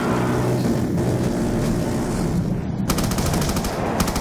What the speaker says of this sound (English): Oh my, I got my death machine back.